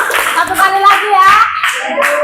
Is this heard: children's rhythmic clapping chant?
yes